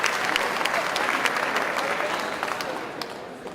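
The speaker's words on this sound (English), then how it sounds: "President Koiko, give her a round of applause." Crowd applause in a Harlem hall during a State of the State address, greeting a president being introduced: full, continuous clapping from many people, moderately loud, tapering slightly toward the end.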